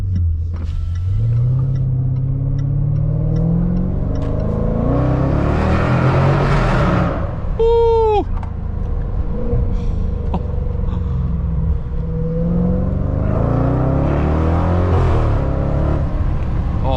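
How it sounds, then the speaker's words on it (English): A 600 hp Manhart Range Rover Velar SV accelerates hard on the Autobahn, its loud raspy engine and exhaust rising steadily through the gears with a sharp break at each upshift, a brief whistle cutting through midway. "sort of a weird bang on the upshift. It's absolutely delicious. It's so raspy and dirty."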